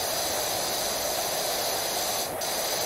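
Pressure washer spraying in PowerWash Simulator, a video game: a steady, unbroken hiss of water jet running loud and close for the whole stretch, with no talk.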